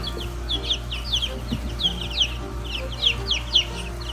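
Chickens at a reptile expo in Orlando cluck again and again in short, uneven bursts over a constant low hum of the hall, with no one talking.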